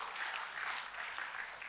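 A congregation at an Indonesian church service claps in sustained, dense applause for God, a steady wash of many hands throughout.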